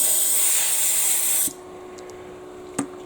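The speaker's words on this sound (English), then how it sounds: "then when you blow it with compressed air" Compressed air blasts steadily into a lathe tool holder to clear chips from under the screw, a loud broad hiss that cuts off sharply halfway, followed by faint clicks and a brief knock.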